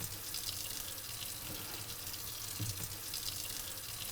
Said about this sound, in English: I'm gonna wash this thing off one more time. Just give it a good rinse, get all the soap off